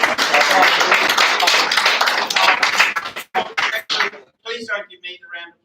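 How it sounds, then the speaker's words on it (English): An audience at a talk gives a round of applause, a dense burst of clapping for about three seconds that thins into a few scattered claps, with some voices mixed in. "Please don't give me the round of applause"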